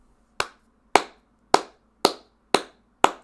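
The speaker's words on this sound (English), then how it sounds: "Clapping?" Six slow, evenly spaced hand claps ring out sharply and alone, each one crisp and close with a short decay before the next.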